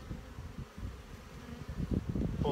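Honey bees buzz around an open frame pulled from a hive, a soft, continuous low hum that swells slightly toward the end with some faint rustling, no talking.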